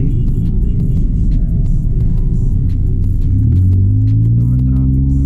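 Mitsubishi Mirage G4 driving in city traffic in Pasay, heard from inside the cabin as a loud, steady low engine rumble and hum, with the engine note rising toward the end as the car accelerates.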